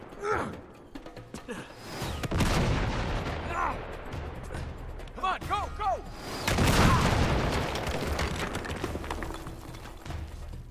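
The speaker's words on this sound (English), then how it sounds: "firing RPGs would totally get the military in here" Rocket-propelled grenade launches and explosions in Uncharted 3, several heavy booms and bursts scattered through the scene, mixed with gasps, shouts and brief talk between characters.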